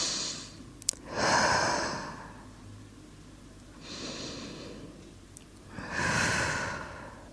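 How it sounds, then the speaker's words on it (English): Slow, deep breaths during a yin yoga practice, each inhale and exhale drawn out and airy, about two full breaths with quiet pauses between, close and soft, with no talking. "take 2 deep breaths here."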